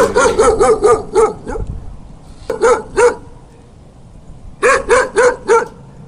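A dog barks in three quick bursts of sharp, close, loud yips with short gaps between them, with no talking.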